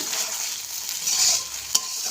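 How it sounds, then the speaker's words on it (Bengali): Dried fish chutney cooking in a pan, a constant hissing sizzle with soft scraping of a spoon being stirred and one sharp clink near the end, close and unvoiced. "নাড়তে নাড়তে রান্নাটা করে নিই, গোটা রান্নাটা"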